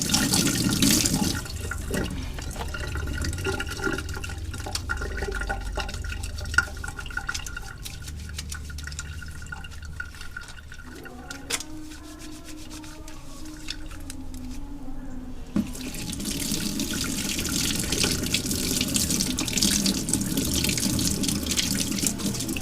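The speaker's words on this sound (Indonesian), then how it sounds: "Saya cuci tangan terlebih dahulu" Hands being washed under a running tap before a child's diarrhea examination, a steady close water stream splashing into a sink for most of the stretch, briefly easing midway, with faint background voices.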